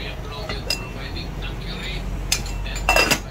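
A knife clicks against a cutting board and utensils while vegetables are cut for cooking fish, a few sparse taps and clinks at moderate distance under a quiet room tone.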